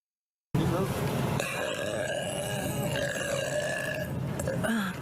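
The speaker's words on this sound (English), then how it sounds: "I bet you wish you could buy all the products that I just burped on, huh?" A person lets out a loud, drawn-out belch at close range, a single rough, gurgling burp lasting several seconds after a brief silence.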